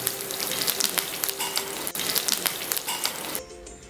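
Curry leaves sizzle and crackle loudly in hot oil in a pan for pumpkin curry, a dense steady frying hiss with sharp pops, then the sizzle drops abruptly near the end.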